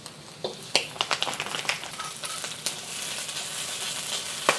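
Green beans stir-fried with belacan sizzle steadily in a hot pan, with repeated scraping and clattering stir strokes over the continuous frying hiss.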